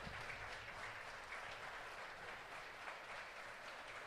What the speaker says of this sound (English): So a round of applause for Kia.